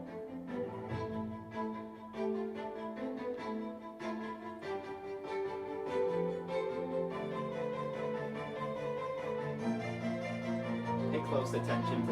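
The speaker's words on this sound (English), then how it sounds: "Both tracks use a string orchestra." String orchestra music from the Hollow Knight and Silksong video games plays steadily, with layered sustained strings and a moving melody at moderate level and no talking.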